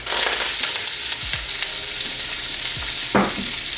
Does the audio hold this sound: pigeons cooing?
no